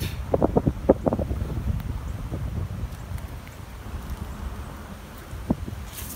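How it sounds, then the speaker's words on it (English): Gusty wind from Hurricane Matthew in 2016 rumbles and buffets the microphone in uneven bursts, stronger at first then easing, with a few faint knocks and rattles. "The wind is still pretty gusty"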